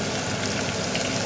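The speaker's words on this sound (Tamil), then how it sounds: "சைடில் பார்த்தீங்கன்னா வெங்காயமும் முட்டை மசாலாவுக்கு வந்து வதங்கிருச்சு" Sliced onions sautéing in a pan for a South Indian egg masala, giving a steady, soft sizzle and crackle that holds at an even level throughout, with no voices.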